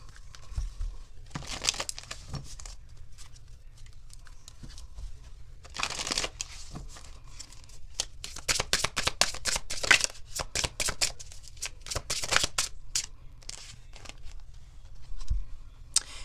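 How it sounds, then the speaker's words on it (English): A tarot card deck is shuffled by hand in quick riffling and flicking bursts, close and fairly soft, with short pauses between rounds and no talk. "I'm over here shuffling for nothing."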